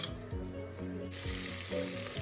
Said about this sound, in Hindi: अब एक कुकर को गरम कर लेना है और उसमें 2 टेबल स्पून मस्टर्ड ऑयल डाल दें।